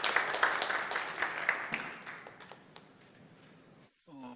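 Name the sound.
church congregation applauding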